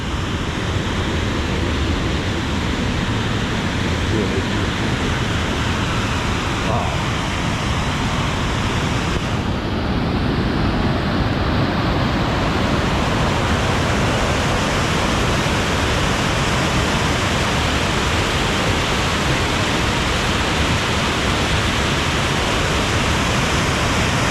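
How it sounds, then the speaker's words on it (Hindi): Water of the Sindh river pours down in a steady, loud roaring rush, continuous broadband noise with no voices or breaks throughout. "पानी गिरने की आवाज़ आ रही है, वही सिंध नदी, उसी सिंध नदी का पानी है।"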